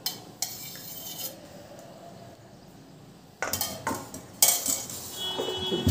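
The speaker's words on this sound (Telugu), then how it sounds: "చపాతి పిండి ఎలా కలుపుతాం అలా కలుపుకుందాం దీన్ని" Aloo paratha dough of flour, salt and oil being worked by hand in a bowl: quiet scraping at first, then louder clinks, knocks and rubbing in uneven bursts over the last half.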